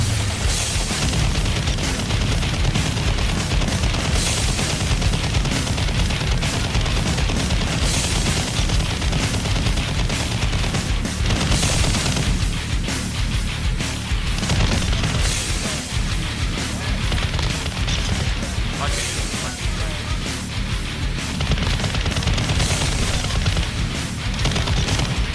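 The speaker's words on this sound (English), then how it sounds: "I get accidental kills with the RAAL MG" Sustained, rapid fire from a RAAL MG light machine gun in Modern Warfare II, a loud, dense, unbroken stream of shots with booming impacts and battle noise throughout.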